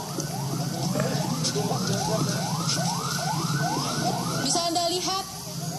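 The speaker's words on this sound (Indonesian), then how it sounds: "ambulans sudah berjalan menuju ke pemakaman" An ambulance siren wails in a steady rising-and-falling cycle as it leads a funeral procession toward a cemetery in Indonesia, loud and continuous over a background of outdoor crowd noise.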